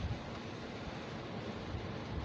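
Water thrown up by a passing cement tanker truck splashes over a car, heard as a broad, loud continuous wash of spray and rushing noise with no talk.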